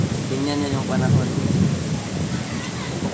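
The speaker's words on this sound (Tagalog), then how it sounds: "Lakas ng ulan." Heavy rain pours steadily through a stormy outdoor scene, with a low rumble of thunder swelling in the middle; voices are faintly audible beneath the downpour.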